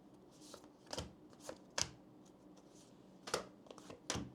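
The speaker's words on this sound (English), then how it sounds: "So I'm going to pull some oracle cards for you" Oracle cards are shuffled and pulled by hand in short, soft bursts of riffling and flicking, close and quiet, with brief pauses between the strokes and no talking.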